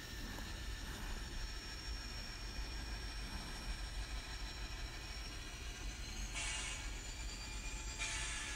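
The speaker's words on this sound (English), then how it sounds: "Let's catch the GP40 pulling a train into Chillicothe" A GP40 locomotive pulls a train at a distance in Chillicothe, rumbling steadily with a low engine drone, wheel noise and faint metallic squeals, no talking.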